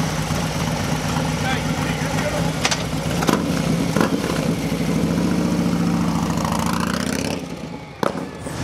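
A big-inch motorcycle engine idles up close with a deep, steady rumble, joined by a few sharp clicks and knocks, and the sound drops near the end.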